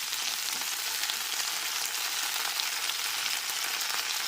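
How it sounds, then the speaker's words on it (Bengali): Chopped flat beans (sheem) fry in a pan with a steady, even sizzle that carries on without a break. It is close and moderate in volume, with no voices. "কেটে রাখা সমস্ত সিমগুলো দেওয়ার পরে ডিমগুলোকে ভেজে নিতে হবে"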